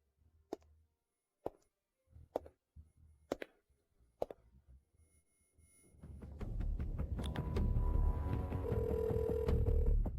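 A telephone rings late at night as a string of sharp, evenly spaced clicks and chirps, followed by a sustained loud buzzing tone that holds steady to the end; no voices are heard.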